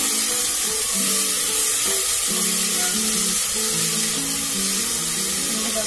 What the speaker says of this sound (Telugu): ఇప్పుడు మనము ఆనియన్స్ ఫ్రై అయిన తర్వాత టొమాటోస్ వేసుకున్నాము.